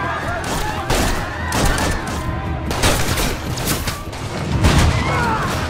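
Gunfire breaks out inside a house during a film scene, with repeated loud shots and crashing impacts spread through the clip over a busy background of effects and music.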